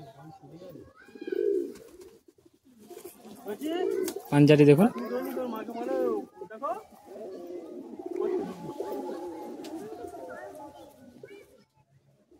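Madrasi high-flying pigeons for sale coo in low, rolling bursts, with a louder close call in the middle, while someone talks over them throughout.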